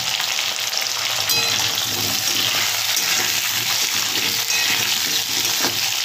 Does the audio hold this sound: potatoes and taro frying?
yes